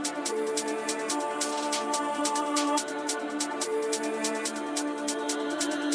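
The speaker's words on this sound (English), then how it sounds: "So this is gonna be the first counter snare," A counter snare drum sample in a dark orchestral drill beat gives crisp, repeated hits that land in a bouncy, uneven pattern over a dense sustained orchestral bed, steady and fairly loud throughout.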